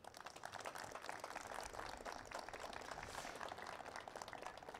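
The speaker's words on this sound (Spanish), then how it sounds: "Fuertes aplausos." Sustained applause from an audience at a university ceremony of the Universidad Nacional del Altiplano, held for a land handover to the Faculty of Biological Sciences. The clapping is steady and dense, heard at moderate distance.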